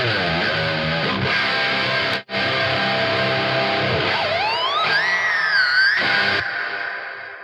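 Electric guitar through the reverb effect of the Two Notes Genome amp sim plugin, held chords and a bending lead line with long washy tails that swell and fade, loud and upfront with no voices.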